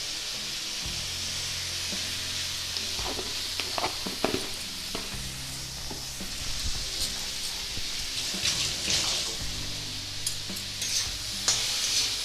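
Shredded cabbage fries in a pan for a vegetarian chanchki, stirred steadily so a close, continuous sizzle is broken by repeated scrapes and clacks of the spatula, with no voices.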